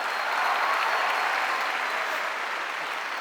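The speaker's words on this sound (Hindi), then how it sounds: "जोरदार ताली इस चीज के लिए।" Large audience at a Forever Living success day event in Delhi applauding loudly, a steady dense wash of clapping sustained throughout.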